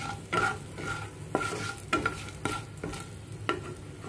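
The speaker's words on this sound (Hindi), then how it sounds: "मसालों की खुशबू खुलने तक हमें इन्हें भूनना है।" Spices roasting and being stirred in a hot pan for vegetable kolhapuri, a soft steady sizzle broken by repeated scraping strokes of a spoon, close and alone with no voices.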